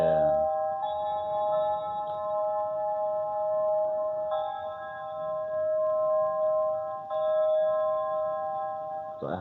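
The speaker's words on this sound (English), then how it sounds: "I had an opening bell for this project" Sustained synthesized opening bell tone from a music project, ringing steadily with faint re-strikes at a few points, clean and alone with no talk.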